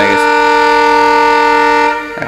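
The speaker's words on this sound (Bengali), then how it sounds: "হর্ন হয়ে গেছে" A train horn sounds at a railway station, one long, loud, steady blast held for about two seconds before cutting off, close by and alone with no speech over it.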